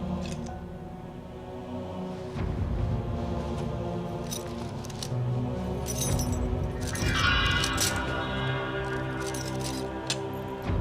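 A bunch of keys jangles and clinks as it is handed over indoors, with a brighter rattling burst midway, fairly close and unaccompanied by talk.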